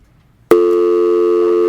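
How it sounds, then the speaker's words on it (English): Telephone call signal on a radio show: a sudden click followed by a loud, steady electronic tone that holds without break. "We have a phone call."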